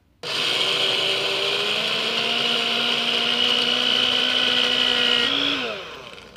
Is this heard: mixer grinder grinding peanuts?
yes